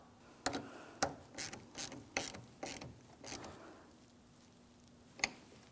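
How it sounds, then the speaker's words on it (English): A hand ratchet tightens a 10mm nut on the battery terminal of a 2007-2014 GMC Sierra 2500 HD, giving a series of sharp close clicks in irregular bursts with brief pauses, a last lone click near the end. "continue on by tightening your 10mm nut and then install your protective cover"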